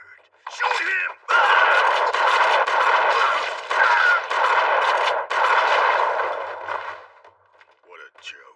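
Sustained machine-gun fire roars through a dubbed action film, long continuous bursts with brief breaks, with shouted voices near the start and end.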